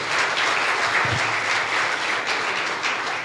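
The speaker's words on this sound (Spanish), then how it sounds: "Dale un aplauso al que te transformó." A church congregation claps together during a celebration service, a dense, sustained round of applause filling the room at an even level throughout.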